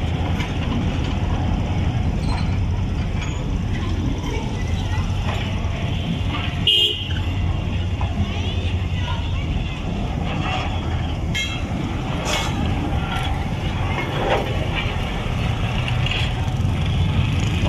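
Freight train hauled by two locomotives on a test run of the Karachi Circular Railway near Malir Dhobi Ghat, a loud continuous rolling rumble with a horn toot partway through and scattered clanks and squeals.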